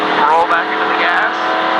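A NASCAR race car engine roars loudly and steadily as it accelerates on track, with a slight dip before picking up again, while a voice talks over it.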